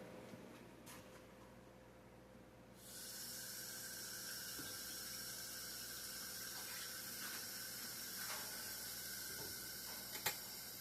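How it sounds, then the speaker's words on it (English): A kitchen tap is turned on partway through and runs steadily while hands are washed, a constant hiss of flowing water with a few faint clinks near the end. "Now let me wash my hands."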